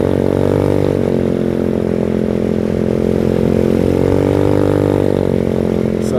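A Venom X18 scooter engine holds a steady, buzzing hum at about 5,000 RPM while cruising near 45 mph on a beach-side ride, loud and close with slight pitch wavering and no talk.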